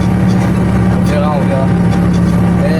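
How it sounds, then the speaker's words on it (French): A loud, steady inline six-cylinder engine rumble fills the clip while a person talks over it, partly masked by the motor noise. "tellement le bruit du moteur. 6 cylindres en ligne"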